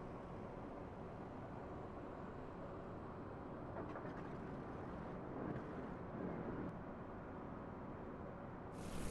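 Steady low engine rumble and droning hum throughout as the piston engines of a simulated Lockheed L-1049 Super Constellation start, with a slight rise as further engines catch and run up, no voices.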